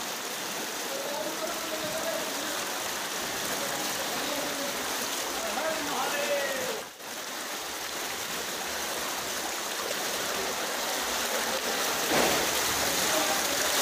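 Fast water rushes through Robber's Cave near Dehradun, Uttarakhand, a cave stream about three feet deep in monsoon season, a steady, loud, close roar that fills the whole clip.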